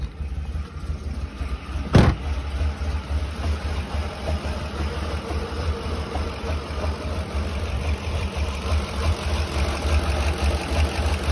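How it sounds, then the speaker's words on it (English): A 2008 Ford 5.4 3V V8 idles roughly with an ignition misfire, a steady low engine drone that runs throughout with one sharp knock or pop near the start. "It's idling poorly."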